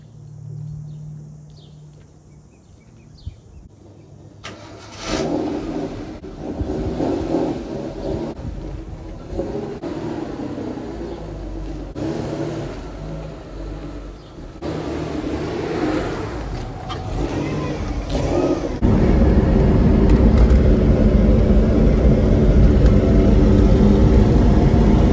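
A car engine starts and the car pulls away, with a low rumble that builds into a steady, loud driving roar of road and engine noise.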